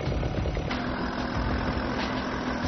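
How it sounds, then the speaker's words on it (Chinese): A vehicle engine runs at a steady idle-like drone while directly driving a mechanical winch drum on an off-road rainforest race vehicle, a close, continuous low rumble with faint mechanical knocking. "它是依靠发动机的动力直接驱动卷筒"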